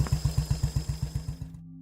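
Motorcycle engine idling up close with a steady, lumpy low putter of about a dozen regular pulses, fading out near the end.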